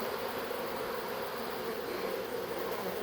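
Honey bees from a swarm cover a person after being shaken down from a rake, their close buzzing a thick, even drone that holds steady throughout, with no talking.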